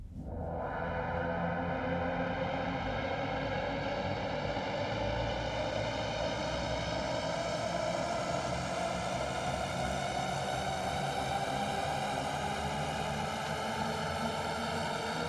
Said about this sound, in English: to add more of this rising tension, I can put in one of these shepherd tones from ATO